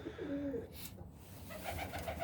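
White doves coo softly nearby in a pigeon loft, a few low rolling calls repeated in a quiet setting.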